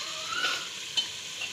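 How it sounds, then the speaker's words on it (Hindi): Masala frying and sizzling in paya (beef trotter) oil while being stirred in a pan, a steady close crackle with a few brief scraping accents, no talking. "ये पाए का अपना ऑयल है और ये मैं मसाले के अंदर डालकर ही भूनूंगी"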